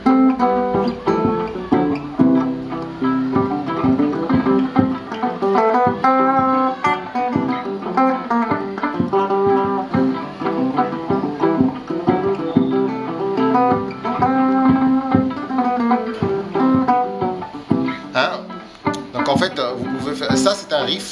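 A solo guitar riff played alone, dense sustained harmonic notes running continuously at steady loudness with busy rhythmic picking throughout, no voice present.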